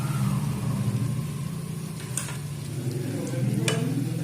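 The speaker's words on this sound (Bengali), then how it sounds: "এইভাবে লাল লাল করে ভেজে নিতে হবে।" Spring rolls deep frying in oil bubble and sizzle steadily up close, over a low droning hum, with a couple of brief sharp crackles.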